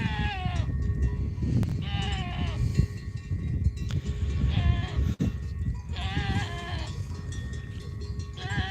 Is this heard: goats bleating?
yes